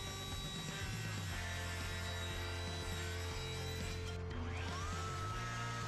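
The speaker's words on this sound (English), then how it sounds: "Back at the table saw with the crosscut sled," A table saw with a crosscut sled cuts wood in a woodworking shop, producing a steady, continuous whirring hum with a faint rising whine near the end and no talking.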